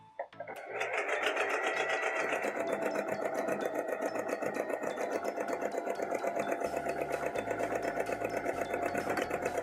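A sewing machine stitches a line along the raw edge of a dress piece, a steady fast mechanical whirr with a rapid needle rhythm that runs continuously, close and alone after a brief start-up.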